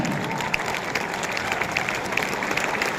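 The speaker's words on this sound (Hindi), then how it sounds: "अपने फ्यूचर के लिए ताली बजाएं।" A large audience claps steadily at a speech event, a dense and even spread of many hands with a few sharper individual claps standing out.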